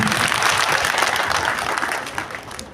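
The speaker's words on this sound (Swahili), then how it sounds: "Tumpigie makofi bwana." At a community security meeting in Chepkurkur, the audience claps for a speaker, a brief burst of dense, lively applause from many hands that fades slightly toward the end.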